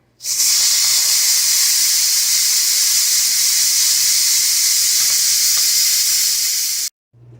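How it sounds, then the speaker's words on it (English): Steam blasts from the pressure release valve of an Instant Pot cooking goulash, a loud steady hiss that starts abruptly, holds for about six seconds, then cuts off sharply. "because a bunch of steam is going to come out from here"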